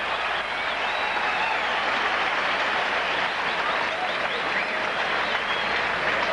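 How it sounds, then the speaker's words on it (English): Spectators at the 1982 US Open semifinal between Lendl and McEnroe applaud a shot, a sustained, dense wash of clapping that holds steady and full throughout with no voices standing out. "Crowd really starting to get behind John now"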